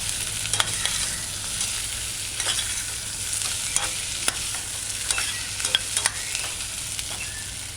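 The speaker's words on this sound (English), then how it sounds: "Just allow it to fry for a minute." Onions and spices fry in a pot for a potato coconut stew, giving a steady close sizzle broken by repeated scraping strokes of a stirring spoon at an uneven rhythm.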